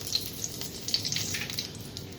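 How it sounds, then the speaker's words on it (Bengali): Bay leaf tempering dropped into hot refined oil in a kadai, a steady faint sizzle with small crackling pops scattered over it, no talking. "তেলটা গরম হয়ে গেছে, ফোড়ন দিয়ে দেবো তেজপাতা"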